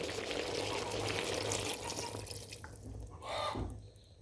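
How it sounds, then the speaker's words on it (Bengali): Water is poured into a pot of bottle gourd cooking with chicken, a close splashing pour that thins to a trickle and drips before a final short gush, then quiets. "লাউটা সেদ্ধ হওয়ার জন্য এখন আমি এর মধ্যে পরিমাণ মতো পানি দিয়ে দিচ্ছি"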